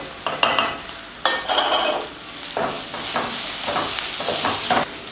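Onions sautéing in a pan with ginger-garlic paste, chilli powder and turmeric for a masala dosa potato filling, a steady sizzle broken by repeated scraping stirs of a spoon against the pan, close and fairly loud.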